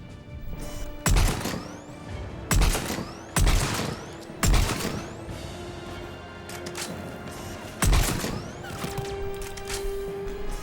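Gunshots in Mass Effect 3 ring out as five loud, separate bursts spaced a second or two apart over a steady background of combat ambience.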